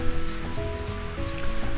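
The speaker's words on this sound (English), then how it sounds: "Depends on how the wind and the rain cooperate." Rain falling in the N64 game Mario Golf, a steady soft hiss of rainfall under game music with faint chirping bird calls, continuous and even throughout.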